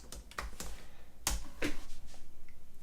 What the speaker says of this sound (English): if I type in anything that I could do, let's just type in blaster.